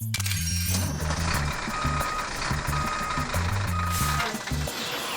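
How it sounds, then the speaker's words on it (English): A steady series of repeated electronic reversing beeps from a toy truck rings out in an even rhythm over a low rumble, loud and continuous. "Beep, beep, beep, beep! Careful, everyone! Make way! The big truck is going backwards!"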